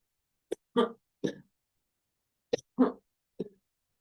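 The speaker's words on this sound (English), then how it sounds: "So, I have to cough again." Six short, sharp coughs come in two groups of three, close and loud, with silence between the bursts.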